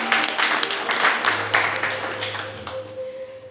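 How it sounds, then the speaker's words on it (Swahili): A church congregation applauding during a service, a dense burst of many hands clapping that fades over a few seconds, heard close and without talk. "Pigia Bwana makofi."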